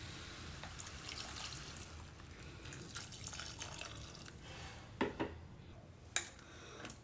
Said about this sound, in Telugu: సరిపడా వాటర్ పోసుకోవాలి.